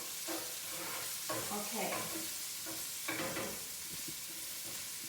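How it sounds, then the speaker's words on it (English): Chopped onion fries in a very hot pan, a constant hiss of sizzling oil with bursts of scraping as it is stirred, close-up; a voice briefly speaks once. "Start with my onion, give it a bit of a stir, and just don't burn it, but just caramelize it."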